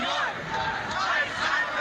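A protest crowd in Lower Manhattan rallying against ICE deportation sweeps, a dense roar of many shouting voices chanting together at a steady, loud level throughout.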